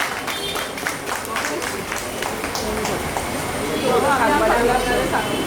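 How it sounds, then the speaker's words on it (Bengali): An audience claps at an evening Independence Day celebration held by a housing society in Hind Motor, a dense patter of applause that carries on steadily while a voice speaks over it toward the end. "আপনারা একটু করতালি দেবেন সবাই আজকে সম্পাদককে"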